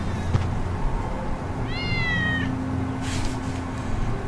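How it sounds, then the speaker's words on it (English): A cat in the video game Final Fantasy 7 Remake gives a single clear, drawn-out meow midway through, over a quiet in-game ambient background. "That's Wedge's cat."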